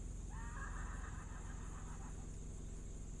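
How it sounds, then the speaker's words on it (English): A horse near a rural horse barn gives a clear whinny lasting about two seconds, moderately distant over a steady car engine hum. "Oh, that's a horse making that noise."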